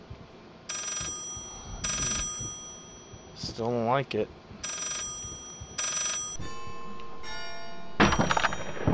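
Ringing chime from the horror video game Layers of Fear, repeating in short bright bursts at roughly one-second intervals with a warbling tone midway, heard beneath someone talking.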